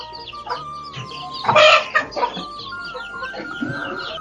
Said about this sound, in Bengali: এখানে মুরগগুলো আলাদা করে রাখা হয়েছে টাইগার মুরগির মুরগগুলো আর কি অনেক বেশি মারামারি করে